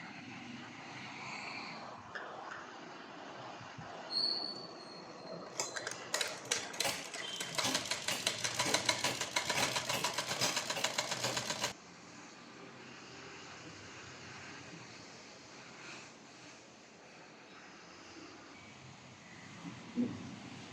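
A sewing machine stitches fabric during a home tailoring lesson, running in one steady, fast burst of close, rapid needle clatter for about six seconds, then stopping. Faint handling noises follow in an otherwise quiet room.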